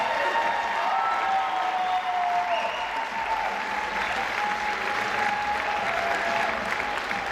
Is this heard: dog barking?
no